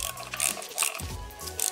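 A ratchet tightens bolts on a BMW S54 engine during a rebuild for an E30 swap, giving quick close-up bursts of clicking as the handle is swung back and forth, with no talking.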